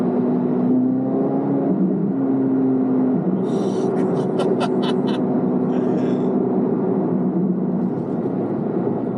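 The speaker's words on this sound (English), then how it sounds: "That's track mode, so the exhaust is open." A car in track mode with its exhaust open, engine note held steadily at high revs as a loud continuous rumble and whir, with a few sharp crackles partway through.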